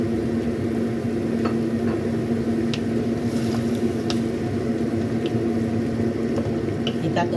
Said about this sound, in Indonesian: kita tumis-tumis